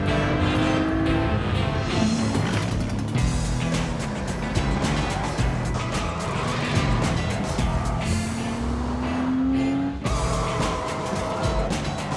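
Sports prototype race cars, a BMW chasing a Panoz, in an American Le Mans Series race at Portland in 1999, with a steady engine roar from the field and rising, shifting engine notes as cars pass by.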